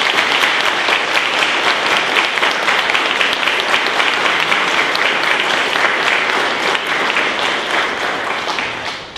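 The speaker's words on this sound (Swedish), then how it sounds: "välkomna dem med en varm applåd" A congregation applauds warmly during a Catholic mass honouring relics of Saints Thérèse of the Child Jesus, Louis and Zélie, a loud, dense, sustained ovation of many hands that tapers slightly at the end.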